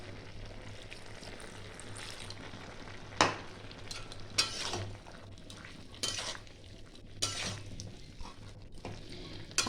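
Water splashes into a pan of cooking bottle-gourd greens with potato and stems, followed by sizzling, stirring and clinks of a utensil against the pan in several sharp bursts.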